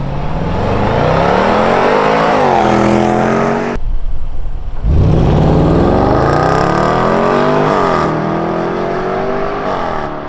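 BMW X7 M50i SUV with a twin-turbo V8 accelerating hard, the engine note climbing loud and close as it revs out through gears, with a brief dip at a shift before pulling up again.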